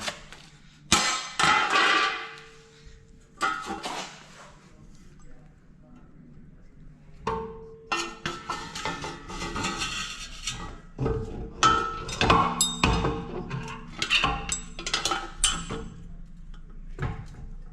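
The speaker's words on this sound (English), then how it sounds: "so at this point, the axle goes in" Rear axle being fitted to a Volvo 240, with scattered metallic clanks, knocks and scraping at close range in irregular bursts, and a person speaking intermittently between the noises.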